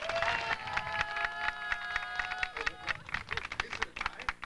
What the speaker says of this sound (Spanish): What about number two